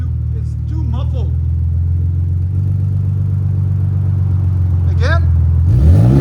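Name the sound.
Ford Raptor engine revving with Borla ProXS exhaust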